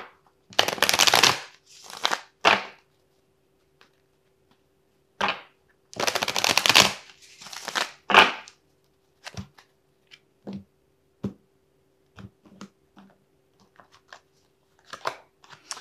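Tarot cards riffle and slap as a deck is shuffled in several quick bursts, then softer isolated flicks and taps as single cards are drawn and laid down, close up with no talking.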